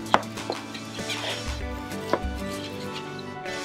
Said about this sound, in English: So we're just gonna cut it into nice little chunks